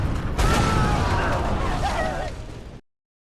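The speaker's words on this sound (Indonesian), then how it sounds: "dari kejauhan terdengar suara ledakan, di mana ledakan itu berasal dari meriam kapal Bang Won yang tengah menyerang kapal perompak." A ship's cannon fires at a pirate ship, a booming blast followed by a long rumbling, crackling roar with creaking undertones, loud and close before cutting off abruptly.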